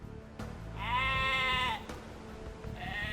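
Sheep bleating in the video game Age of Empires II Definitive Edition: one long, loud, wavering bleat near the middle, followed by the start of a second, with soft thuds and game ambience around them.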